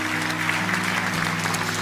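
A church congregation at a Sunday worship service applauds volunteers, with continuous, full-room clapping over a low sustained instrumental tone in the background.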